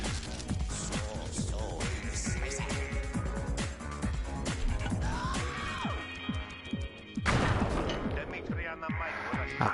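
Bomb blasts against a pillar in Sly 2: Band of Thieves, a rapid series of sharp, loud cracks and booms under game music, with a heavier burst near the end.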